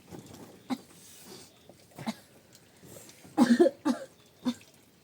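A woman coughs several times, first in single scattered coughs and then in a close, loud burst of coughs near the microphone.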